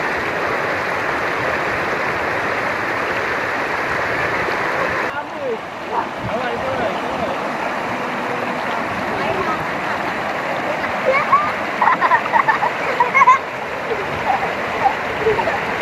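A river in Batangas rushes along steadily while people bathe in it, the flowing water carrying sporadic splashes and voices that grow livelier toward the end.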